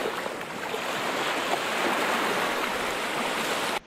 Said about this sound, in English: I can hear on the other side of this island here that's quite wavy and windy